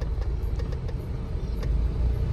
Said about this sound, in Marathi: एकदम खतरनाक ट्रॅफिक आहे भाई.